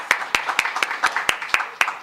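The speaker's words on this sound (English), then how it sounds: "Let's give him a clap, please." A small forum audience claps, with sharp, evenly spaced loud claps over a softer patter of scattered hands.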